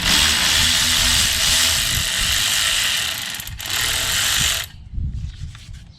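A hand ratchet backs out the last bolt on a Jeep Cherokee XJ differential cover, giving a fast, steady clicking of the pawl for several seconds, close and loud, then a pause and a few shorter bursts.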